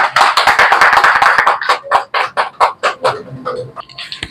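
An audience at a newspaper anniversary launch event in Bhiwandi claps loudly. The applause starts dense and continuous, then thins into scattered separate claps that fade out.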